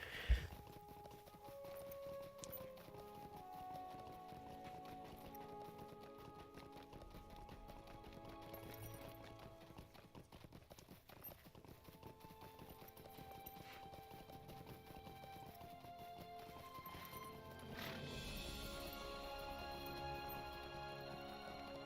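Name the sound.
pony hooves clip-clopping in LOTRO video game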